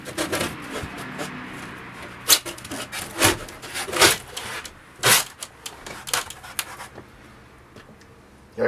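Handsaw trimming wood during a house addition build, heard as a series of irregular rasping strokes and scrapes up close, with pauses between bursts.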